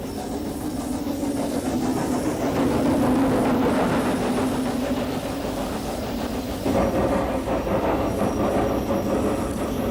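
A Snowdon Mountain Railway train climbs the mountain near the Llanberis path, giving a steady, loud rumble of wheels and rolling stock with faint squeals and no voices throughout.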